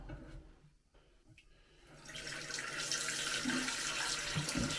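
Water runs steadily into a toilet cistern through a ball cock valve during a leak repair in a French farmhouse renovation, starting faint and intermittent and then swelling to a loud continuous rushing fill.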